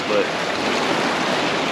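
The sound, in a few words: wind and waves at Lake Mead shore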